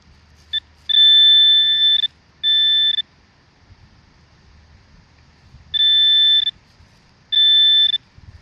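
A Garrett Apex metal detector sounds over a small brass stud among iron on goldfields ground: four clear electronic beeps in two pairs, the first beep longer, separated by quiet gaps.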